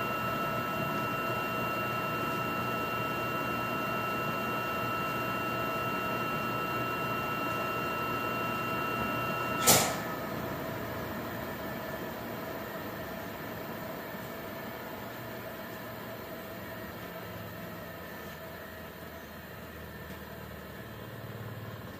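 Techtop 25 HP electric motor spooling down after shutdown, a steady mechanical hum with a whine, a sharp click midway, then the drone gradually softening as it winds down.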